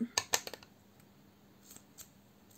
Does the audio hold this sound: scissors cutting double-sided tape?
yes